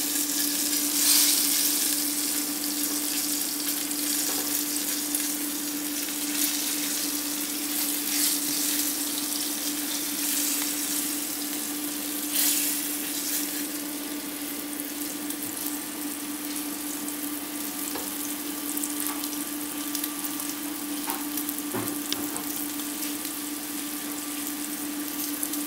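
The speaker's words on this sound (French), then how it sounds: "Ici, on va dorer les papillotes sur toutes les faces." Chicken paupiettes brown in a frying pan with a steady, dense sizzle and crackle throughout, occasional spatters and faint stirring, with no talking.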